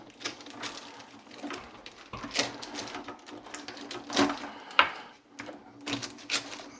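Rubber and metal washers clink and tick while being handled under a kitchen sink and fitted back onto boiling-water tap hoses, giving a scatter of light, close taps and one sharper metallic click.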